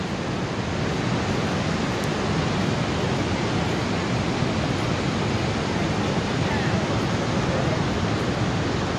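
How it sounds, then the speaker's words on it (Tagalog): Niagara Falls roars at night as a constant, even wash of rushing water, heard at a steady moderate level without any break. "narinig nyo ang ingay ng falls"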